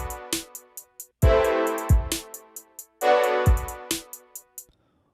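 A hip-hop beat moving between the 1 and 2 chords, with sustained chord stabs over punchy kick and snare hits and crisp hi-hats, played twice in a steady loop before ending on a brief tail.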